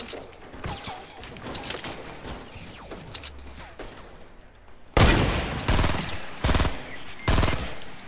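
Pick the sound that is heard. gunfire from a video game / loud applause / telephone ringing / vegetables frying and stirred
gunfire from a video game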